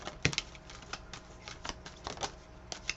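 Tarot cards are shuffled in quick, soft, irregular riffling taps and flicks, close and quiet, with no talk.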